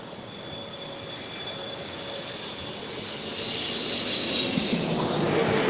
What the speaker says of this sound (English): this is Korean Air Flight 9013 coming in from Seoul